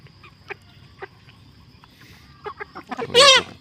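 Domestic chickens clucking: several short, spaced clucks from nearby birds, then a louder, rapid squawking burst near the end, over a quiet background.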